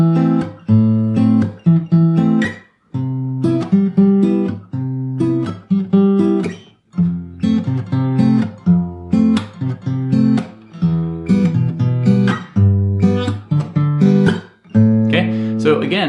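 Fingerstyle electric bass playing a Latin-flavored groove, mixing percussive chopped notes with chord tones in a steady, repeating rhythm; loud and close with short gaps between phrases and no talking.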